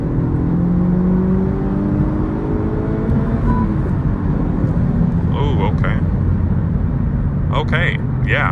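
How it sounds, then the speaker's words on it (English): A Honda Civic Type R FL5 pulls after a downshift into third, a steady engine drone and road noise rising gently over several seconds while someone talks briefly near the end. "going to accelerate just a little bit here just to get an idea how it feels"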